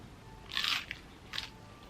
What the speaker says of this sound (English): This taco is definitely not as crunchy as the one I had in that other video